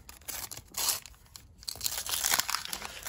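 Foil packets of football trading cards being ripped open by hand: close, crisp tearing and crinkling in irregular bursts with short quiet gaps, no speech.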